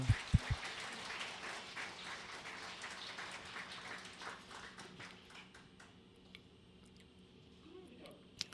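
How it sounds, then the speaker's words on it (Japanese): Audience applause during a lecture on healthy eating, a soft, distant crowd clapping that starts after a few sharp knocks and tapers off into near quiet with scattered claps. "拍手"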